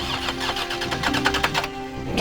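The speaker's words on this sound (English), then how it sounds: "Judy tried to start the car, but the engine refused to turn over." A car engine cranks repeatedly without catching, a rapid rhythmic churning that runs steadily for a couple of seconds at close range, with no voices over it.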